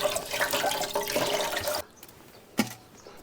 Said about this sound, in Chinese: 这个稍微清洗一下就好。